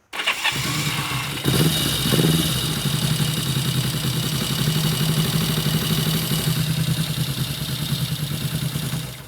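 1963 Honda CB72 motorcycle engine fitted with 66 mm aftermarket pistons fires up abruptly and settles into a steady, loud, close idle with a throaty, even burble, blipping briefly right after starting.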